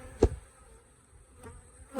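Honey bees buzz around nucleus hives, a faint, steady hum broken by a couple of soft knocks.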